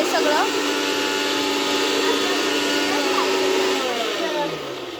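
A kitchen mixer blending food for biryani, a loud continuous whirring drone that holds steady and then tails off as the motor winds down.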